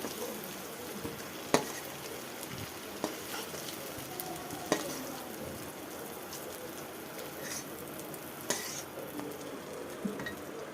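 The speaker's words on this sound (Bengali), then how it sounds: "আমি কচুটা ভেজে তুলে নিচ্ছি" Pieces of taro (kochu) fry in oil in a kadai with a steady sizzle, broken by a few sharp clinks of a utensil stirring against the pan.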